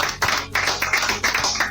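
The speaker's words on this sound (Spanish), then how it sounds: "Un aplauso nuevamente" A small audience at a cultural talk claps in short uneven bursts, close and moderately loud, the rhythm breaking into a few distinct waves with brief gaps between them.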